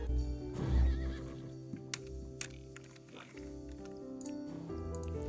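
Horse video game sounds: a horse whinnies early on, then light clip-clop hoofbeats and small equipment clicks follow at a quiet level, with no talking.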